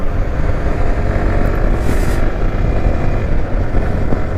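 A Yamaha R15M motorcycle engine revs up toward 6000 RPM in a loud, steady, close roar with rumbling low end, mixed with wind buffeting on the microphone.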